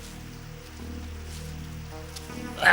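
Steady rain falls in a cartoon storm, a soft, even hiss of drops that stays faint and continuous throughout.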